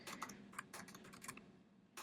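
Keys on a computer keyboard are tapped in a quick irregular run of soft, close clicks, faint overall with brief pauses between bursts.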